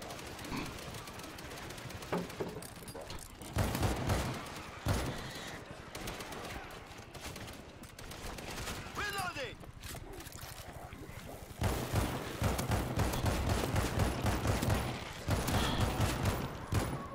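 Gunfire from the zombie shooter video game World War Z, a sustained chaotic fusillade of rapid shots, dense and close, growing heavier toward the end while players talk over it.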